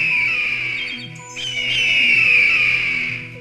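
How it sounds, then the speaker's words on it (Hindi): A small bird crying and hawks calling in an animated forest story, a sustained shrill tonal cry that rises and swells, heard loud and close over a faint musical background. "टीनू चिड़िया बुरी तरह रो रही थी और उन दोनों बाजों की आवाजें भी काफी तेज थीं।"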